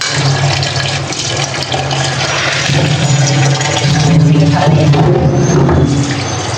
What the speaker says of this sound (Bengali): এই যে সাবান দিয়ে বেশি করে ধুয়ে ফেলাই